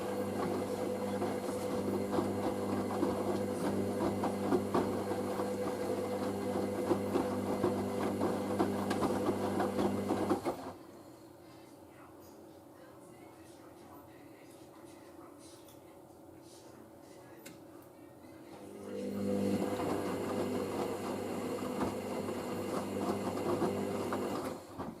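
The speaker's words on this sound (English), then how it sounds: "I think this is the first rinse." A Hoover SIX AAA160 washing machine on the first rinse of a 50ºC speed wash gives a steady, droning motor hum that drops to near quiet for several seconds, then resumes; someone speaks briefly.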